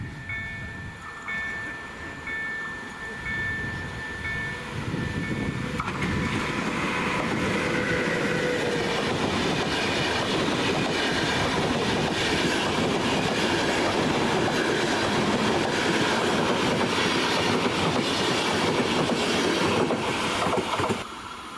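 A PKP Intercity EIP passenger train with a replacement consist led by a Vectron locomotive, running from Bielsko-Biała to Gdynia Główna, approaches and passes close by with a loud, sustained rumble of wheels and rail clatter that builds and stays strong to the end.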